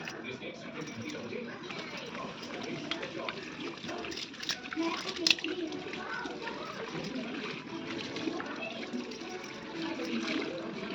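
A sponge wipe is washed with soap under running water in a home, soft splashing and trickling going on throughout, fairly quiet, with a voice talking over it.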